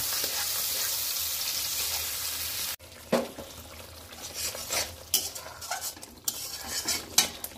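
Tomato paste stir-fried for a cauliflower and potato curry: a loud steady sizzle at first, then a series of sharp spatula scrapes and clinks against the pan over a quieter frying hiss.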